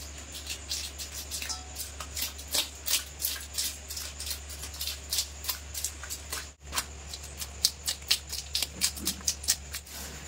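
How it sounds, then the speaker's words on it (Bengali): A spoon scraping scales off a large mrigal fish, producing repeated quiet raspy strokes in an irregular rhythm over a low steady hum. "প্রথমে এই চামচের সাহায্যে কিন্তু মাছের আঁশগুলো ছাড়িয়ে নেব"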